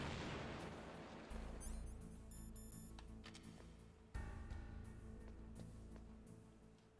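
Two heavy, booming C4 explosions in the PS1 video game Metal Gear Solid go off a couple of seconds apart, each followed by a long rumbling decay; no talking.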